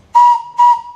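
An old steam-style whistle on the tram at the entrance to Fantastic Caverns gives two loud, steady toots in quick succession, clear and close with no talking.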